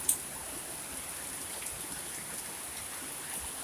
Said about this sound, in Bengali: অনেক জোরে বৃষ্টি আসছে